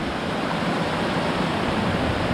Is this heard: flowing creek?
yes